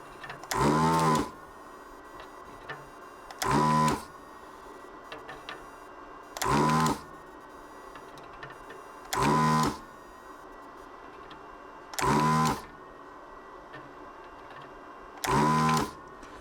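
A desoldering tool sucks solder from the chip pins on a pinball circuit board. Six short, loud whirring bursts come at even intervals of about three seconds, with near-quiet between them.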